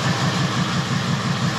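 A Volvo XC90 five-cylinder engine idles steadily with a low, even rumble and a faint rhythmic pulse, heard alone at close range.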